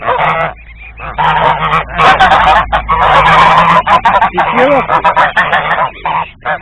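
Goose chicks out at pasture honk loudly and close by in a dense, overlapping run of harsh calls with short pauses.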